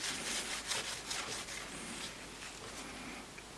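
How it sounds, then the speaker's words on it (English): A clean cloth dampened with isopropyl alcohol wipes a part during a Toyota Ipsum heater control repair, making soft, close rubbing strokes that fade into a quieter swish, with no speech over it. "Give it a wipe."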